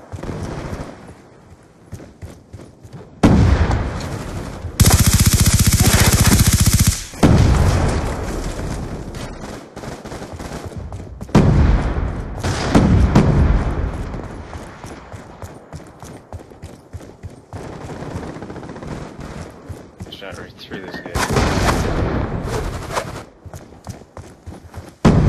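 Rapid gunfire in a first-person shooter video game, loud bursts of shots crackling in several separate volleys over a busy game soundscape with footsteps and movement between them.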